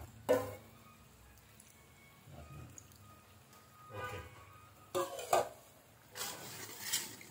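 Potatoes for sambal goreng kentang are stirred in a pan, giving intermittent scraping and clattering bursts of a utensil against metal, separated by quieter gaps of low kitchen background.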